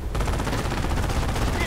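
Rapid machine gun fire crackles nonstop in the World War II strategy game Company of Heroes, loud, dense bursts layered over battlefield rumble with no pauses.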